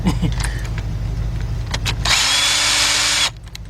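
A power tool gun backs out a throttle body bolt on a Hyundai XG350-type V6 engine, a loud close whir that runs steadily for about a second after scattered clinks and handling noises, then cuts off.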